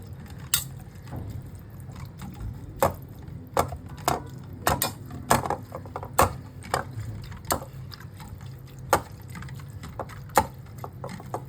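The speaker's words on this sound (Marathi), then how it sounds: "आपण आता त्याला स्मॅशरने स्मॅश करून घेऊया." Cooked, cooled ridge gourd mashed with a masher in a pot, a series of sharp irregular wet squelching thuds and knocks, close and fairly loud, with no talk.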